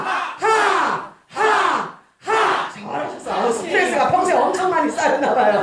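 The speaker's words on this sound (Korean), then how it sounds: "그걸 오늘 소리로 한번 질러보시는 거예요." An audience of volunteers at a year-end Korean volunteer center event shouts together in rhythmic bursts to release stress: several loud, near, unison cries with short pauses, then looser overlapping shouting and laughter.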